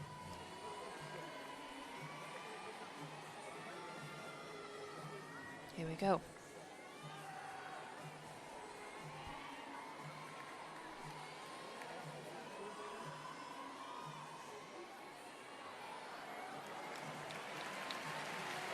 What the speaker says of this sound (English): crowd just giving him some encouragement there to climb back onto the horse